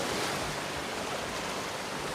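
Waves wash onto a beach at Chumphon, Thailand, making a steady, even roar of surf with no voices, continuous for the whole stretch.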